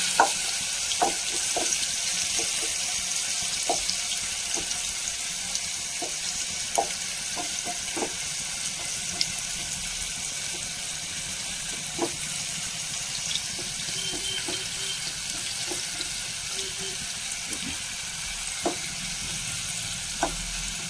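Marinated prawns fry in coconut oil in a pan, giving a constant close hiss of sizzling oil with scattered sharp pops and crackles.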